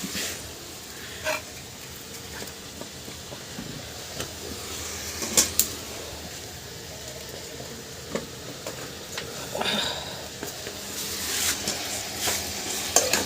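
New potatoes fry in a pan with pork, a steady soft sizzle broken by occasional scraping and knocking as a spoon stirs them, fairly close and moderately quiet.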